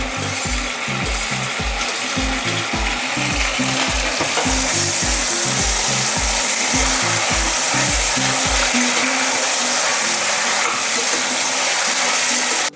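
Tomatoes and whole uncut green chillies sizzle and fry in a pan for mushroom biryani, a steady loud crackling hiss with rhythmic low knocking of stirring through most of the stretch, no voices.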